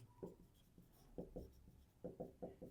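A pen scratches across paper in short strokes and taps while a math problem is worked out, quiet and close, with a few quick bursts of writing.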